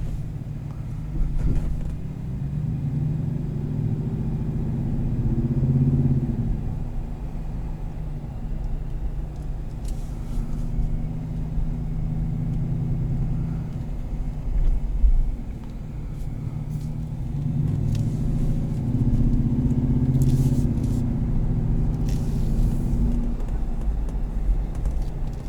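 A deep, steady aftermarket exhaust rumble from a 2017 Ram Rebel pickup truck idling and revving gently, with a few faint clicks and taps over the low drone.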